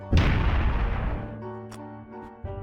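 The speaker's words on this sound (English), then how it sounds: "2 cannon shots can be heard in the distance." Two distant cannon shots from a Hunger Games–style demo event: a big booming blast with a long rumbling decay, then a second, fainter shot just under a second later, with no talk.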